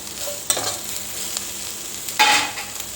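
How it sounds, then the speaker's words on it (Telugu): Vegetables for semiya upma stirred and frying in a pan, a steady sizzle with two brief scraping stirs of the spatula, close and clear with no talking. "మంచిగా మగ్గాలి అవి ఇట్లా గోలించుకుంటే సరిపోతుంది"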